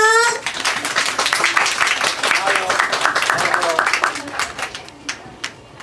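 A crowd at a Hang Ten store promotional event claps steadily to welcome a celebrity brand ambassador, with dense, sustained applause that starts just after a brief trailing voice and tapers slightly near the end.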